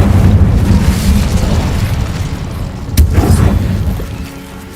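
An Incendio fire spell cast in a Harry Potter video game, a loud sustained fiery roar with a sharp burst near the middle, then continued rumbling flames.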